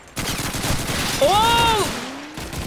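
Call of Duty 2 multiplayer: a dense, loud stretch of gunfire and battle noise with a rising whistling tone over it, then a quick drop-off, while a player talks briefly underneath.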